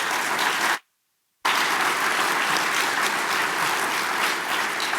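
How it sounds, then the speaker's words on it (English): An audience gives a final round of applause for the panelists at a talk on advanced reactor construction, loud continuous clapping broken by a brief cut to silence, then resuming strongly. "please, last round of applause for our panelists"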